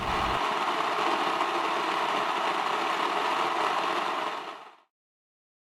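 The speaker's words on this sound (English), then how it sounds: "I'm starting with soft white wheat berries and I'm milling 360 grams." A grain mill grinds soft white wheat berries into flour with a loud, steady motorized whirring roar that holds evenly and then cuts off abruptly into silence, with no talking.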